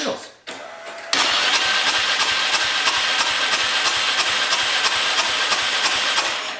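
A turbocharged EFI 660 lawnmower engine with its spark plug removed is cranked over easily while in gear, producing a loud, close, rapid and evenly pulsing chug that starts abruptly after a brief lower rumble and holds steady.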